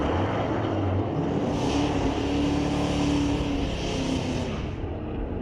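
A 2019 Dodge Challenger and a 2023 Dodge SRT drag race at a street-legal night at a raceway park, engines roaring hard and continuous, swelling as they launch and pull away down the strip.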